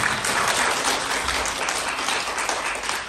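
Loud, dense applause from a seminar audience in a training hall, a sustained burst of many hands clapping together that tapers slightly toward the end.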